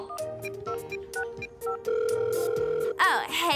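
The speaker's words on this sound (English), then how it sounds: "And finally, the long distance phone call." Cartoon telephone ringing, a bright repeated electronic ring in short bursts over a musical score, with cartoon voices and effects around it and a louder flourish near the end.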